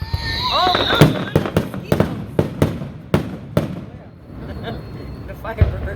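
Fireworks on the Fourth of July go off in a rapid series of sharp, loud bangs and crackles, with a whistling launch at the start and people talking in the background.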